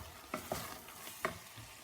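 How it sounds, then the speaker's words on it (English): Ground beef and stock stirred in a pan for cottage pie, with a soft steady sizzle and a few faint scraping strokes of the spoon, heard alone and fairly quiet. "Give it a good stir"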